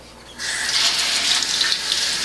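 Cold tap water starts suddenly and runs in a steady, strong stream into a kitchen sink while raw chicken is rinsed, a close, continuous splashing hiss.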